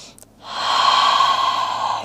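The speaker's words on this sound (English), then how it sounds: "Hang out here for one intentional breath." A single long, audible exhale flows out steadily after a brief catch of breath, close and clear, during a yoga forward fold in a diamond-shaped seated stretch.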